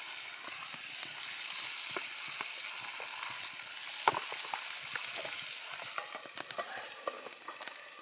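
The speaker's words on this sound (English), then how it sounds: "Basically frying and baking it at the same time." Brook trout frying in a pan on a twig stove, a continuous close sizzle with scattered sharp pops and crackles, steady throughout and with no talking.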